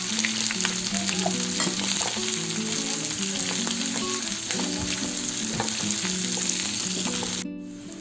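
A big onion and green chillies fry in a pan with a continuous, even sizzle and occasional stirring ticks, soft music running underneath until it cuts off abruptly.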